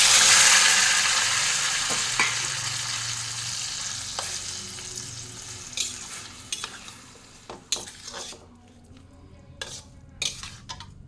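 Cucumber sizzles and fries in a pan for a Bengali shukto curry, with a loud hiss at first that fades, then stirring and scraping knocks of a utensil against the pot, close and clear, with no talking.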